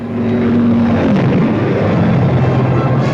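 World War II fighter escort aircraft taking off in 1944, accompanying B-17 and B-24 bombers: a loud, steady propeller-engine drone that holds throughout with a slight shift in pitch partway through.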